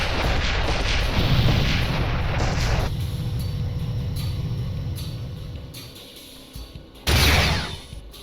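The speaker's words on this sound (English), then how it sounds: "Targeting the Chiton with primary photon beam cannons." Photon beam cannons firing in the space combat game FreeSpace 2, heavy booming blasts with rumbling decay, a loud sustained barrage at first, then a quieter lull before another sharp burst near the end.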